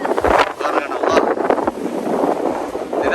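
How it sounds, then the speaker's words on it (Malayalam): Strong, cold wind during a dust storm on a road roars and buffets close to the microphone in uneven gusts, loud and continuous. "ഇതിന്റെ സൗണ്ട് കേൾക്കുമ്പോൾ നിങ്ങൾക്ക് മനസ്സിലാവും കാറ്റിന്റെ."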